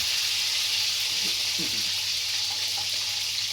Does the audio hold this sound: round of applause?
no